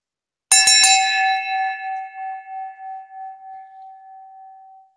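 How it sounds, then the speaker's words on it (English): A brass school bell is rung with a few quick clangs close by, then its bright metallic tone rings on and slowly fades over several seconds with a gentle pulsing shimmer. "It's a school bell."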